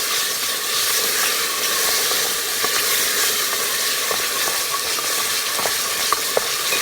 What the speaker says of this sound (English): I like to cook up my tomato paste a little bit.